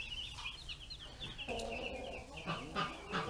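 Meat chickens cluck and chirp inside a coop, a steady high peeping chorus with a few louder nearby clucks rising over the flock, no talking.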